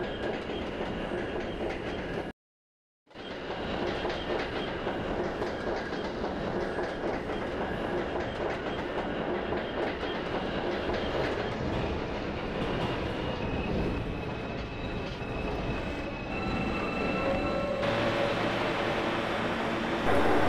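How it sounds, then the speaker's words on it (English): A simulated New York subway P local train in Trainz 12 runs toward Gateway Drive Mall with a steady rumble and rhythmic clickety-clack of wheels over rail joints. The sound cuts out briefly near the start, and a faint high whine enters toward the end. "This is a Gateway Drive Mall bound P train."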